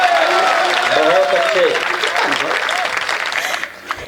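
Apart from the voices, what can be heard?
audience applause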